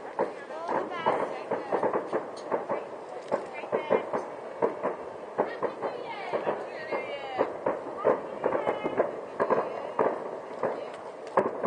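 New Year fireworks in Liverpool crackle and pop in rapid irregular bursts, moderately close, with a person talking over them throughout.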